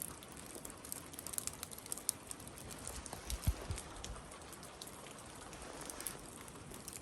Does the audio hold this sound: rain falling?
yes